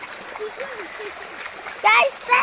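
A child steps and splashes through water outdoors in a village, with a couple of short, sharp splashes near the end among children's chatter and small voices.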